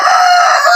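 A rooster crows loudly and close by from a farm kept for cockfighting, one continuous high, strained call that holds steady through the short moment with no talk over it.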